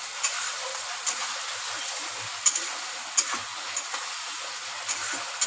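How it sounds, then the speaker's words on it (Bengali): Spice paste fries in a pan with a soft, steady sizzle and hiss, broken by occasional light scraping taps of a stirring utensil at uneven intervals, fairly quiet and with no one speaking. "এবার মশলাটাকে আমি ভালো করে কষিয়ে নেব।"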